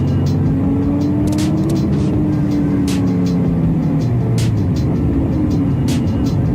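A chase car running with a group of Pagans motorcycle club bikers, engine droning steadily at close range with rising and falling pitch, over constant road and wind roar, with occasional sharp knocks and some voices.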